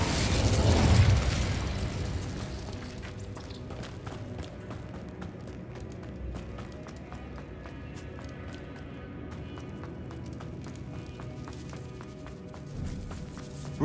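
The Incendio fire spell is cast in the Hogwarts Legacy video game. A loud burst of flame and explosive whoosh opens the stretch, then fades into crackling, rumbling game ambience with scattered small pops.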